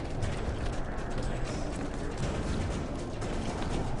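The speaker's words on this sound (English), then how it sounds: "I hear a horse." Horse hooves clip-clop at a quick pace in Assassin's Creed Revelations over a steady, noisy background, fairly faint and continuous throughout.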